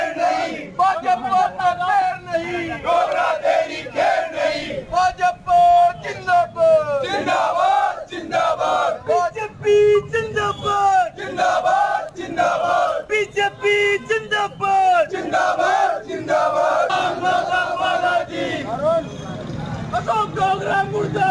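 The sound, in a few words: crowd of protesters shouting slogans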